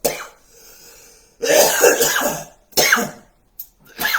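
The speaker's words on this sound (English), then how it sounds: "that's smoker cough right there" Harsh, wet coughing fits from a man after eating spicy chili peppers, several loud, close bursts of rough hacking and throat clearing separated by short gaps.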